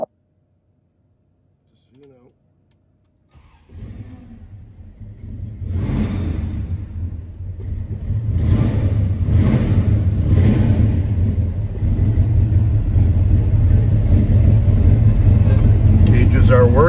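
A 1966 Chevrolet Chevelle SS is push-button started after near silence, then its engine settles into a loud, close, rumbling idle that swells slightly and holds steady to the end.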